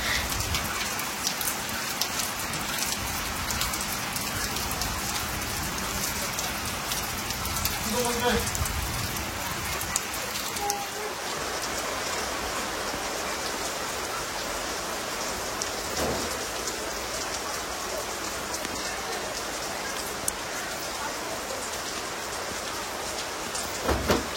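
Steady rain falls on a village house and its surroundings, a dense, even patter of drops on surfaces that continues throughout, with faint voices in the background.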